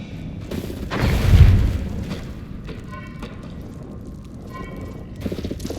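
In the video game Eternal Strands, an infernal allium explodes against an ice wall: one deep, booming blast up close, followed by fainter rumbling and debris.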